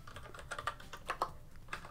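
Quick, uneven keystrokes tapped on a computer keyboard, a run of light clicks with brief pauses, heard close and fairly quiet with no one speaking.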